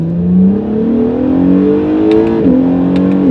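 An Acura NSX hybrid sports car with electric motors accelerates hard, its engine note climbing steadily and loudly up close before a brief dip as it shifts, then pulling on again.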